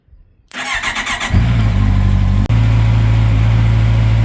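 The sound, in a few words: Honda CB650R motorcycle engine warming up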